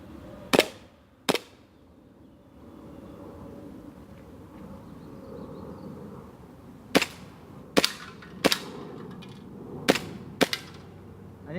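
Sharp snapping shots from a homemade airsoft carbine pistol kit, fired one at a time: two early cracks, a long pause, then a quicker irregular string of five, close and crisp over a soft ambient outdoor hiss.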